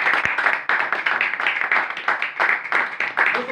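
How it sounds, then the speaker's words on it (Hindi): A church congregation at a Bible study claps together loudly in a quick, steady rhythm, close and continuous for a few seconds with no voices over it. "एक बार जोरदार ताली"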